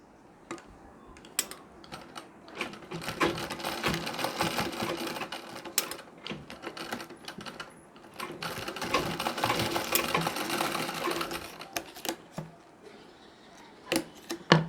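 Sewing machine stitching a zipper (chain) into a nauvari saree, running in several short, loud bursts separated by pauses and small clicks of handling the fabric.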